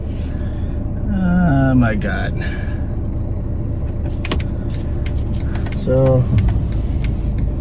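Truck passing on a street in Australia, a steady low rumble of traffic throughout while a person talks over it, moderately loud and close.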